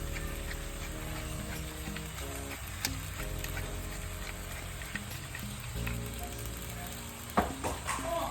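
Meat with spices for a Boholano guisadong mongos sizzles steadily in a frying pan while being stirred, a dense continuous frying hiss with occasional scraping knocks, no talk over it.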